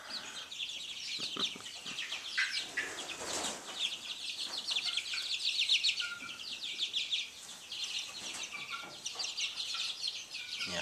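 A hen clucks and murmurs softly nearby over several seconds, with faint chirps and light rustling around her.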